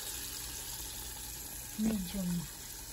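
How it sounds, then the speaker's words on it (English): Chicken drumsticks deep frying in oil give off a soft, steady sizzling hiss throughout, with a couple of brief tonal, voice-like sounds just past the middle. "And then you deep fry it. Fry it in the medium."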